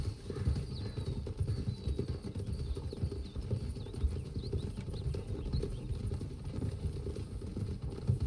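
Horse hooves clip-clop steadily in the Red Dead video game, a continuous faint rhythmic patter of footfalls carried over a low rumbling background.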